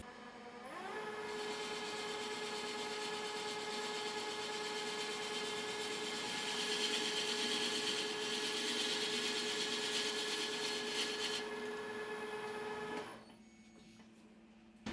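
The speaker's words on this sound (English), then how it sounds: "CNMG lathe tool and true up the OD of the part to run through to the ID of the part" A metal lathe turns a painted part on an Optimum MB4 while a CNMG insert trues up its outside diameter, giving a steady, loud whine with sustained tonal hum and cutting hiss that runs continuously before stopping abruptly near the end.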